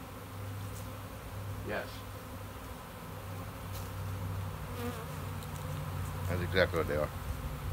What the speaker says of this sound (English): Nice to go on vacation and come home and find bees came in.